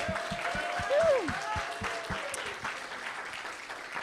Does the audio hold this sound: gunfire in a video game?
no